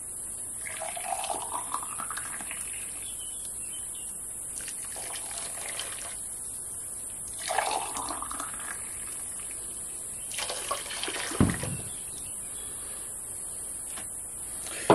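Hot water is poured into a pot of sugar in several separate bursts, each a rising gurgle as the vessel fills, over a constant high hiss.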